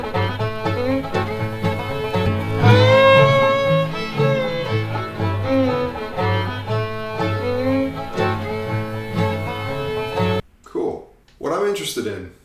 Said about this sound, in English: intro to his fiddle solo has a very cool shape